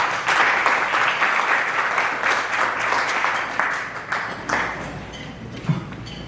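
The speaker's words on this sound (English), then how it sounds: "If we can hold applause for Mr. John Agnew" Sustained applause from an audience at a monthly bar association luncheon, dense and steady, fading slightly toward the end with a few louder individual claps.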